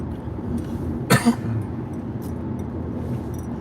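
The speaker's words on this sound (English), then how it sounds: "I need to clear my throat once again." A man clears his throat with a brief double rasp, two quick close bursts over a steady low room hum, with no other voices.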